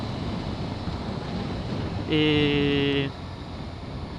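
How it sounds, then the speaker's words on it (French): Wind buffets a helmet microphone on a Yamaha Fazer8 motorcycle, a constant low roaring rumble throughout, with a brief tonal whine rising over it midway. "Il y a beaucoup de vent ce matin."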